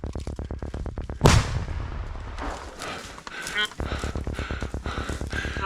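A grenade blast goes off mid-combat, a sudden heavy burst cutting through rapid rhythmic clatter of nearby gunfire and machinery, with voices shouting around it.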